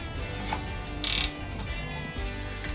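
A ratchet wrench clicking rapidly while loosening a control arm ball joint nut on a Porsche 911 996, close and loud, with a brief metallic burst in the middle of the clicking.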